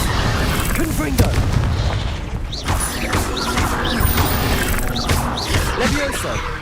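Confringo fire spell blasts in the Hogwarts Legacy video game, repeated booming impacts and crashes in a busy battle mix, with a voice talking over them.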